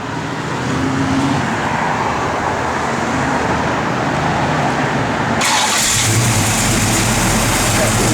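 A 1969 Chevrolet Camaro SS engine running loudly and steadily, rising to a heavier revving roar partway through, with a person talking close by.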